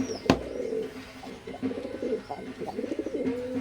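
Teddy pigeons of an imported bloodline coo steadily in a loft, several overlapping throaty calls at close range with a sharp knock near the start and a faint outdoor background.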